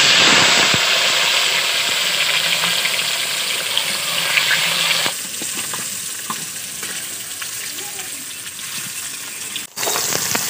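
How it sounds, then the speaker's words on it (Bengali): Boiled potatoes frying in hot oil in a pan, a loud close continuous sizzle that drops noticeably in strength midway and carries on more softly, with a brief clatter near the end. "আলুগুলো লাল লাল করে ভেজে নেব।"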